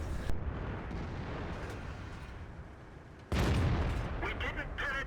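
WZ-131 tank cannon fire in World of Tanks, a heavy boom hitting abruptly after a stretch of low rumbling battle noise, followed by clattering mechanical and radio-like effects.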